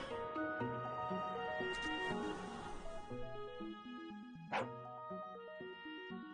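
A dog in the video game Rakuen gives a few short yips and a whimper-like call amid soft game music, with one sharp louder bark near the end.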